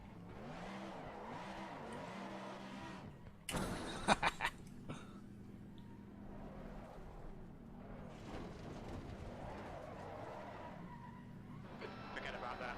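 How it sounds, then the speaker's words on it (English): An ERA race car does donuts at Snetterton. A loud burst of tyre skidding and screeching cuts through a steady engine drone, with people talking over the engine before and after. "Let's do some donuts."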